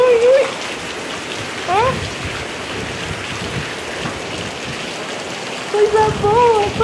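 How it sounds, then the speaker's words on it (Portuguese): Heavy rain pouring down steadily in a dense, constant hiss, close and loud throughout, while a voice exclaims briefly at the start and again near the end. "Olha que chuva maravilhosa."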